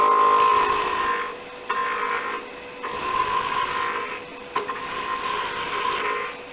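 A bowl gouge cuts steadily into wood spinning on a lathe, producing a continuous loud scraping hum that dips and swells slightly as the cut shifts, with no talk.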